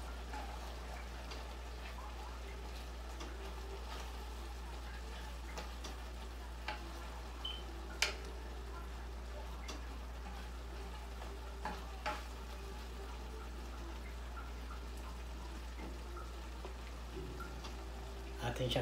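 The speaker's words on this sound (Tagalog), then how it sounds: "Atin na siyang hahaluin." Beef with broccoli and mushrooms is stirred in a pan. A faint sizzle runs under a steady low hum, with scattered light scrapes and clicks of the utensil.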